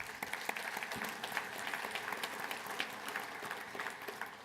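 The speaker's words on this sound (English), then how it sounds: "Let's give Barry a round of applause." Audience applause at a professional association chair's remarks, a steady patter of many hands clapping at moderate volume, sustained throughout with no speech over it.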